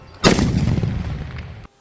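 A Mappillai vedi firecracker from Sivakasi explodes once in a sharp, loud, close blast. The boom rumbles and decays for over a second, then cuts off abruptly.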